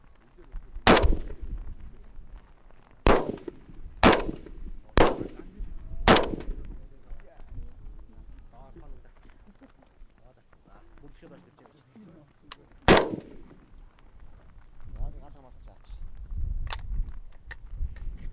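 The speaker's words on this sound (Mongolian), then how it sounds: "За буудаж болно." Several sharp gunshots ring out at a shooting range, five spaced across the first few seconds, then one more later, with people talking between and after the shots.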